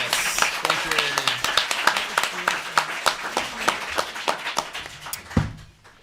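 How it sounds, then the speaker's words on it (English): Audience at an outdoor poetry festival in Southern California gives scattered, uneven clapping that thins out over several seconds, with a voice briefly audible underneath. "Another round of applause for Amy Gerstler, please."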